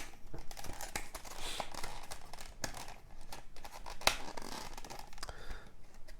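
Close crinkling and tearing of thin plastic wrapping, with scratchy rustles and a sharp rip midway, as a Marvel Champions card game hero pack is pulled open.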